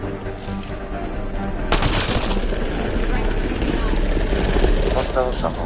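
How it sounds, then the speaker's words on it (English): A hostile shuttle from Mass Effect roars in with a broad, steady engine rumble that swells louder partway through, layered under scattered gunfire and combat noise, with voices calling out over the din. "Hostile shuttle incoming."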